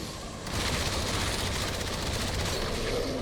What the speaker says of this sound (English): Shoot a grenade launcher shot.